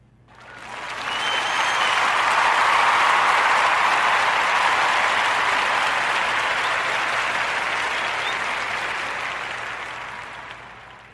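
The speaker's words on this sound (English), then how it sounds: "Let's give a warm narrative podcast round of applause for our brother" A long, dense round of applause on a narrative podcast for guest Marcus Parker swells quickly, holds as a steady wash of many hands, then gradually fades, with no voices over it.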